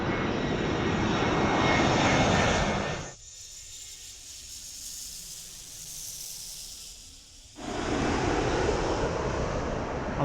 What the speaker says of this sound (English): Next we've got a Vueling from Barcelona. Let's get a shot of that. It's an A321.